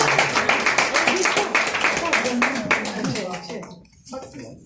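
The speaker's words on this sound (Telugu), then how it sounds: "Please claps." An awards program audience claps in a brisk, fairly close burst that fades after a few seconds, with voices talking over it.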